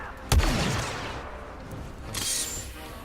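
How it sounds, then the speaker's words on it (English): Rocket launcher explosion in Star Wars Battlefront II: a sharp, heavy boom near the start that rolls off into a rumbling tail, followed by a fainter hissing burst about two seconds later, loud and close. "if I shoot the rocket launcher near people, because the rocket launcher, you know, makes a big explosion"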